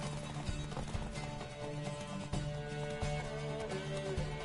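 Horse galloping in The Witcher video game, with quick, rhythmic clip-clop hoofbeats that keep up a steady driving pace, joined by game sounds and music throughout.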